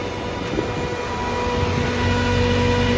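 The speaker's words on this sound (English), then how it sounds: "I apologize about the fan noise, but when we go in here, it's obviously a little loud" Loud, steady whirring hum of cooling fans on a Radeon MI60 GPU accelerator card used for mining, a constant broadband drone with tonal whine that persists throughout without pause.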